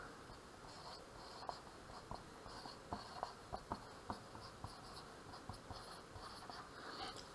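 Someone writes an algebra equation out by hand, the pen or marker making a series of soft, quick ticks and scratches over steady faint background hiss, with no voice.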